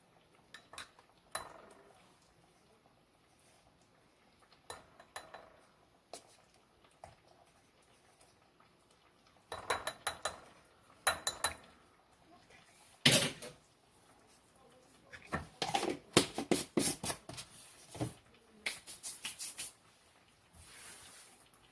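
Cornstarch stirred into beef broth to make a slurry for beef stew gravy, heard as intermittent clinking of a spoon against a bowl in short bursts amid quiet pauses.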